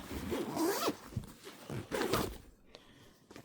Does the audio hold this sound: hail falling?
no